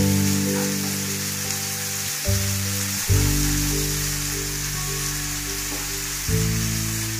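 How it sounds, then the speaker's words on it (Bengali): Onions with salt fry steadily in hot oil, giving a continuous close sizzle with faint crackles and no voices, while a low background hum runs underneath. "পেঁয়াজে নুন দিয়ে দিলে পেঁয়াজটা তাড়াতাড়ি ভাজা হয়ে যায়।"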